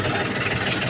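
A farm tractor's engine idles close by in a low, even rumble with a slight rhythmic knock, and there is no talk over it.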